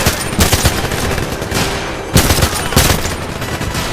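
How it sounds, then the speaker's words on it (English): Sustained gunfire outdoors at Fort Knox in the video game 007 Legends: a dense, loud barrage of rapid shots with no letup, punctuated by heavier bursts of fire. "the outdoors of Fort Knox are an obnoxious maelstrom of never-ending gunfire"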